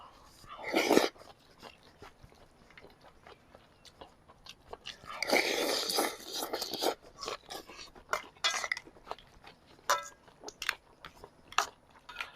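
Cold raw squid mulhoe soup eaten at a theme park in Pohang, with close crunchy bites, chewing and clinks of cutlery against a bowl, in irregular bursts of varying loudness and no talk.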